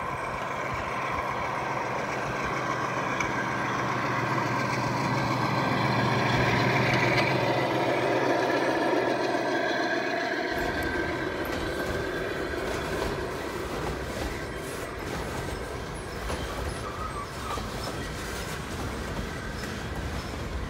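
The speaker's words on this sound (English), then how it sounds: "the local again heads back up Canyon Tank grade around Canyon Tank curve with a small manifest freight." G scale model freight train hauled by Dash 9 locomotives climbing a mountain grade, a steady close rumble of wheels and motors with rattling cars, holding constant and shifting in texture partway through.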